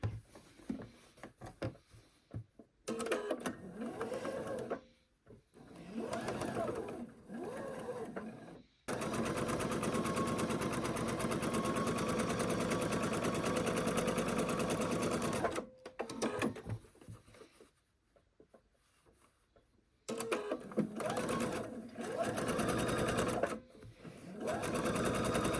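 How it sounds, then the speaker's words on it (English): A sewing machine stitches down the sides of quilt mosaic block squares, running in several bursts of steady fast whirring of varying length, with short pauses between them. "we're going to stitch down both sides"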